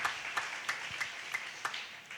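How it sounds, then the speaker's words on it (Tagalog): A congregation at a Filipino evangelical church service claps for the Lord in a steady, rhythmic beat of sharp, evenly spaced claps, fairly quiet and a little distant, with no talking over it. "Isang malakas at matunog na palakpak sa ating mahal na Panginoon"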